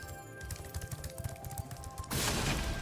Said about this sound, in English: Little fireworks shoot out.